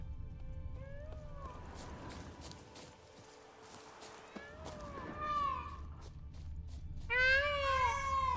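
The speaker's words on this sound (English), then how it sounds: "They sound like cats." Creatures in The Witcher 3 video game call back and forth like cats, several rising, wavering meows spaced apart over a low rumble, the last one the loudest and longest, with hoofbeats and occasional speech nearby.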